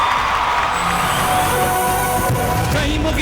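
Loud, continuous crowd cheering fills a stage event at a Kannada film audio launch as a singer is welcomed, a dense roar of voices with scattered whoops and no clear gaps.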